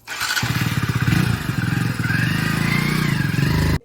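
A motorcycle is started and ridden off on a rural road. The engine runs loud and close with a steady, fast pulsing putter that holds for several seconds before cutting off abruptly.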